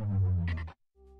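A short synthetic power-down effect: a low, buzzy droning tone wavers and sinks, then stops dead, followed by a faint lingering hum.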